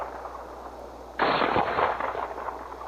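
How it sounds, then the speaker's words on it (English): Shotgun blasts in Olympic trap shooting, a sudden loud report after a quiet lead-in, with a second shot following closely and a fading tail. "see how the gun reacts when I take 2 shots in a row"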